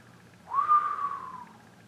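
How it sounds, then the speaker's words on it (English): A single clear rising-then-steady whistle from a person, lasting about a second, moderately loud and close, with no talk around it. "Whistled Diggory."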